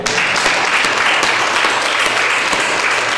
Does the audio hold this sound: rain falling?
no